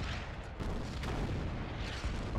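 Heavy artillery fire booms in the Order of Battle: Blitzkrieg war strategy game, a dense, continuous low rumble with a few sharper bursts layered over it, loud and steady throughout.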